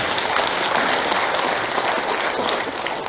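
Loud, dense applause fills the hall at a founding convention of a Yeosu-Suncheon October 19 bereaved families' association as guests are introduced, with continuous clapping from start to finish.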